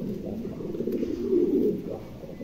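A new adult pair of Mundi pigeons in molt gives a continuous low cooing drone that swells louder midway, then eases off.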